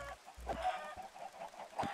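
Chickens clucking in the video game Minecraft, several short cackling calls spread across the moment, fairly close and clear with no talking over them.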